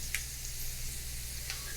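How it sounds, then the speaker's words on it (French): Garlic sizzles in hot oil in a paella pan, a steady soft hiss of frying with a couple of faint ticks and pops, close and continuous without any talking. "Donc là, l'ail fait contact avec la poêle."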